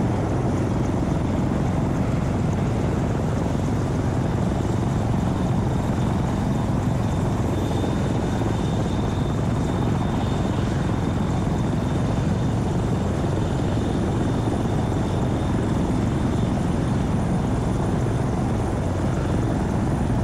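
Steady, loud video game helicopter rotor drone with a constant engine whine, continuous for the whole stretch, no voices over it.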